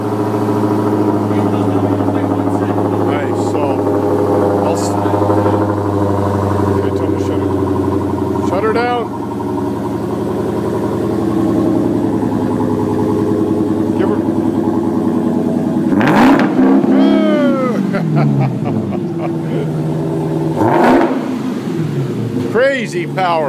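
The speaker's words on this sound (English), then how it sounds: "Now that's supercharged Hemi power" Loud, close revving from a 2015 Dodge Challenger Hellcat's supercharged Hemi V8: a deep rumbling idle broken by sharp throttle blips near the middle and end, each one rising and falling quickly.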